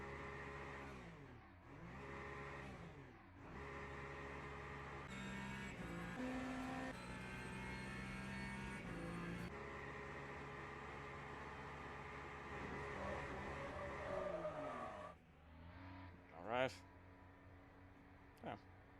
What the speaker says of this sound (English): Ferrari is coming through the Ford chicane now.